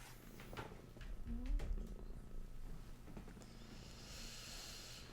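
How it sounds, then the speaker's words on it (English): A domestic Siberian cat purrs softly and close by, a low rhythmic rumble with faint breathy snorts against a quiet room background. "It's the kitty."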